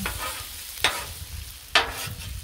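Cajun fried rice of jasmine rice being mixed on a Blackstone griddle: a steady, quiet sizzle with two sharp spatula scrapes spaced about a second apart.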